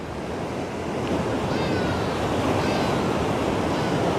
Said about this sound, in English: I'm just waiting for the big wave to hit this side